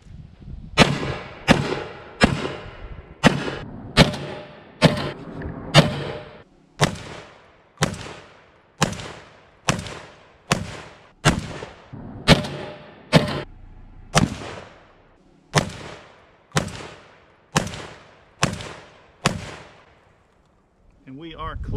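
A GForce Arms GFZ shotgun fires about eighteen loud, sharp blasts at a steady pace of roughly one per second, each with a short decaying echo, outdoors at a range.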